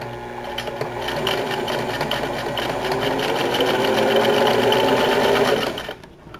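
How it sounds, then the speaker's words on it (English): A sewing machine stitches buttonholes into a pair of pants with a fast, continuous mechanical whir and rattle, loud and close, holding steady for several seconds before slowing to a stop. "Now I have to sew the old buttonholes."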